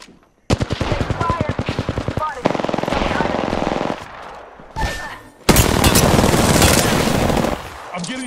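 Rapid automatic gunfire in Apex Legends rattles in long bursts with short pauses, loud and close, joined by heavier shots and game effects.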